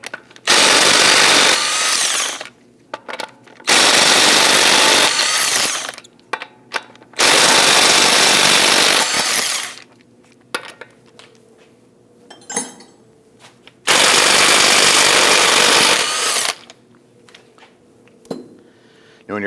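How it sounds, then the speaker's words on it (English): Loud bursts from a power tool driving a 19mm socket to loosen and remove lug studs from a 2001-2009 Volvo S60 front wheel, four long whirring runs separated by quieter gaps with metallic clinks and rattles. "Using a 19mm socket, we're going to loosen and remove the lug studs."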